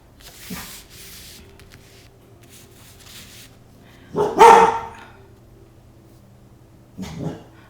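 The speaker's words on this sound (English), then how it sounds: "my dog are going crazy because there's somebody outside" Dogs bark at someone outside in a few short, loud bursts, the strongest about halfway through and another near the end, with quiet stretches and faint background noise between them.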